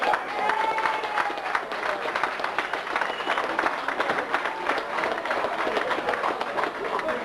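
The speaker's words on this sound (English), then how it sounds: "give them a good round of applause" A festival crowd claps steadily, a dense, sustained round of applause filling the space with some chatter underneath.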